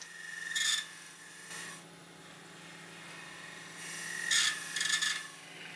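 A 1/4 inch pointed spindle gouge cuts a wooden wine goblet on a lathe in short raspy bursts, a few quiet scraping passes over a faint steady lathe hum.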